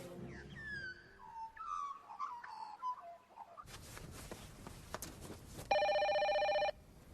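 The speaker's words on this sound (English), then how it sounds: "PJ, answer the phone" A telephone bell rings in one loud, sustained burst, preceded by birdsong and then a stretch of rustling room noise, with no talking over it.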